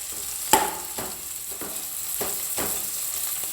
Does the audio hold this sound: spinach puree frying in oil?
yes